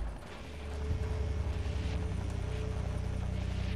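A helicopter in Splinter Cell Blacklist lifts off from a chopper pad: a low rotor thump and engine whine build after the first second, then hold steady, loud and close, with no speech.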